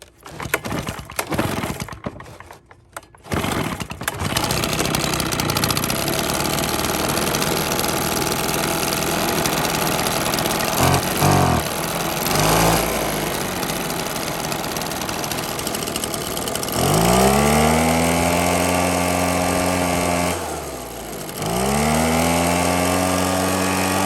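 A Husqvarna 130BT handheld engine fitted with an aftermarket carburetor sputters through a few pulls, then catches and runs loud and close, buzzing steadily with brief dips before it revs up and falls back.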